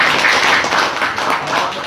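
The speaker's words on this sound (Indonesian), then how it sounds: "Tepuk tangan untuk Bapak Ibu semua." Audience applause at a business prospecting event in Karawang, dense, loud clapping from a crowd filling the space for about two seconds, with no voices over it.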